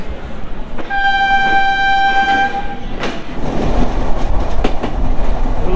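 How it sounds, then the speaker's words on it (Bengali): Rupashi Bangla Express pulling out of Jessore junction: a loud two-tone horn blast for about two seconds, then rhythmic wheel clatter and rumble of the moving cars, very close. "তো ট্রেন এখন ছেড়ে যাচ্ছে"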